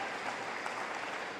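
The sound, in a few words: crowd applause at a basketball game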